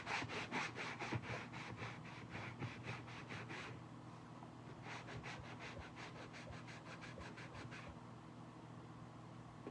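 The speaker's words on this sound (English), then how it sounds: "I'm just gonna sand this off some." Wood is sanded by hand in rapid back-and-forth strokes, with two bursts of rhythmic scratchy rubbing separated by a short pause, close and fairly quiet.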